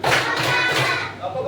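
A class of children clapping together in a classroom, a dense continuous patter of many hands filling the whole moment, fairly close and loud, with voices mixed in.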